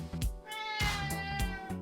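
A domestic cat meows several times in short, clear calls spaced across the moment, close and fairly loud, with no talking over it.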